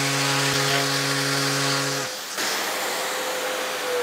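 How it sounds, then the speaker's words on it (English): Power sander shaping the freshly trimmed ends of homemade kitchen tongs into a curve: a humming motor tone gives way to a steady, close rasp of sanding. "with these ends, which I've just trimmed, I can now sand this into a curve"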